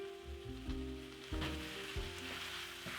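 Beef wet fry with gravy sizzles steadily in a pan, a close, continuous crackle broken by a few soft knocks and scrapes of stirring, with steady tones running underneath and no one talking.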